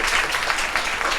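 An audience at a school essay, painting and quiz competition claps in a brief burst of dense, steady applause.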